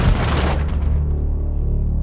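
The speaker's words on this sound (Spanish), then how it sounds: "la devastación provocada por una explosión se puede usar como forma de ataque en sí misma" A loud bomb blast booms out at once, a deep rumbling roar that fades into a long low-frequency tail, with no voices present.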